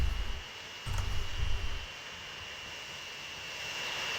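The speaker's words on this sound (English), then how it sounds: "There's planes coming." Aircraft engines drone steadily as planes arrive at an airport in the Transport Fever 2 game, a broad even roar with a brief louder low rumble early on, no talk over it.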